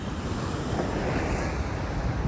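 Ocean surf at Santa Cruz washes in as a steady, dense roar of breaking waves, with wind buffeting the microphone throughout and no voices.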